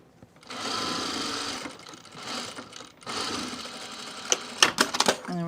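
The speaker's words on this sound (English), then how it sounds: "I'm gonna sew this at a 1/4 inch seam." A sewing machine stitches a quarter-inch seam on a fabric cocoon project bag, close and fairly quiet, running in bursts with brief pauses and a few sharp clicks near the end.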